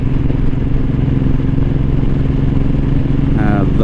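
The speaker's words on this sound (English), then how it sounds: "I love riding this bike." A motorcycle cruises at about 50 mph in third gear on a highway, its steady, loud engine drone running continuously with heavy wind rush and no gaps.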